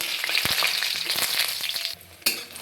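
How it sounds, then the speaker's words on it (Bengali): Lentil dumplings (bori) fry in hot oil in a pan, a loud close crackling sizzle punctuated by sharp pops and clicks, dipping briefly before a final burst. "এখানে আমার তেল গরম হয়ে গিয়েছে, প্রথমে আমি ডালের বড়িগুলোকে ভেজে নেব।"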